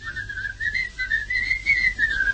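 A person whistles a wavering, bright melody from a 1938 Dutch song, a clear continuous tune heard up close with no voices.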